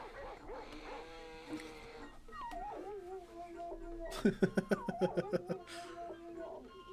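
Dog whimpering and yipping in the PlayStation game Nice Cats, a run of short sharp repeated cries bunched in the middle of the stretch over light game music, with a person talking over it.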